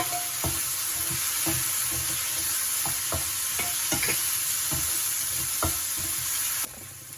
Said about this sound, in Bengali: হয়ে গেছে পেঁয়াজটা ভাজা। এবার এর মধ্যে পনিরটা দিয়ে দেবো।